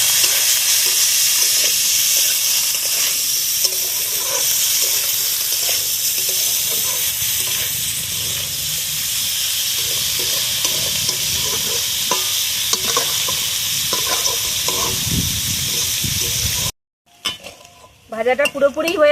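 Figs (dumur) fry with black cumin and dried chili in a pan, giving a loud, continuous close sizzle with occasional stirring scrapes, cutting off briefly near the end before a few utensil clatters.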